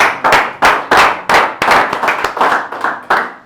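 A church congregation clapping for the Lord after prayer, a dozen sharp, strong claps in uneven rhythm, loud and close, with no speech over them.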